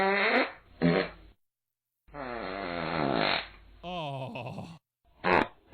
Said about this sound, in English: The fart machine.